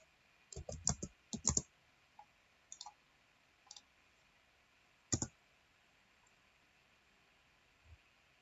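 Sparse, uneven keystrokes click on a computer keyboard in a quiet room, some in quick clusters and others spaced out by pauses.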